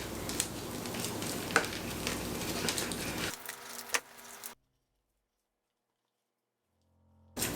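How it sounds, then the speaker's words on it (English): Sphagnum moss being pulled away from Phalaenopsis orchid roots, soft crackling, tearing and rustling close up, ending abruptly into silence before a brief return. "the first thing I'm going to be doing is gently trying to remove all this moss from the roots"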